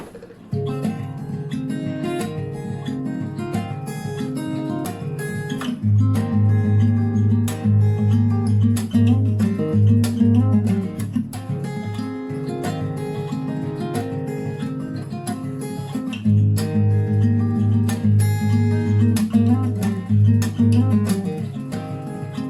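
Guitar outro from a cover of a song: a two-chord progression with hammer-ons and pull-offs, played loud and steady with a thick low end, repeating in even cycles without any voice.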